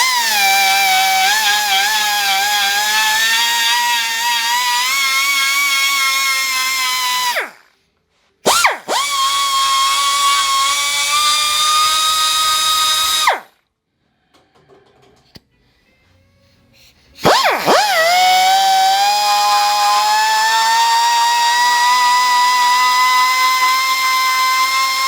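A high-pitched die grinder whines loudly on an engine block under repair with flux core bronze rod, running steadily in long stretches, briefly stopping twice, then winding back up.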